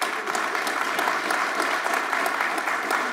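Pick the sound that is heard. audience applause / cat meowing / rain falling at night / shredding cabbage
audience applause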